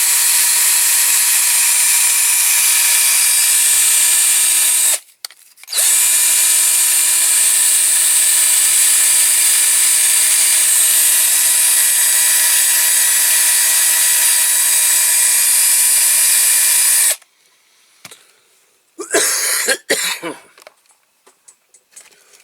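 A power drill with a knobbly bit whines loudly and steadily for about seventeen seconds with one short pause while restoring a Dinky Toys Bedford TK crash truck model, then stops and leaves a few clattering handling noises.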